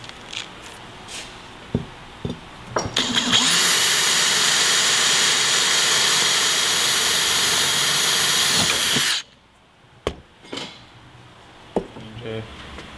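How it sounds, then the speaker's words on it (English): A loud, steady high-pitched whine of a drill press boring a hole through the base of an aluminium bulkhead wall light for about six seconds, starting and stopping abruptly, with brief clicks and handling noises around it. "we use the drill press just to put the hole into the base of the bulkhead"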